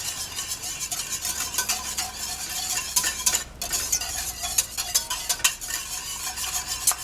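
Carrot soup being stirred in a pot, with a continuous busy scraping and swishing of the utensil through the thick mixture, moderately loud and close, punctuated by a few sharper clinks against the pot.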